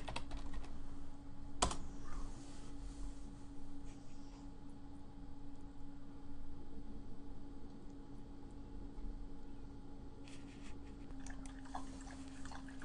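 Soft clicking of typing on a computer keyboard, faint and fairly steady, with one sharper click early on and a short flurry of keystrokes near the end, over a low constant hum.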